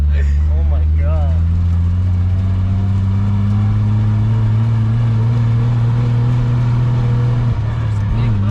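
A car with a 1JZ VVTi engine and a CD009 twin disc clutch drives along with a loud, steady low engine drone throughout, rising briefly in a couple of revs near the start and shifting pitch near the end.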